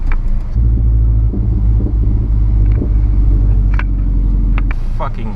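A straight-piped turbo four-cylinder Subaru exhaust with the muffler deleted rumbles loud and deep from inside the car, with crackling pops near the end.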